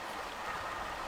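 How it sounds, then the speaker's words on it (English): Steady flowing river water in the Lost Valley level of the Tomb Raider video game, a continuous soft rushing wash, even and unbroken for about a second. "I can hear some water"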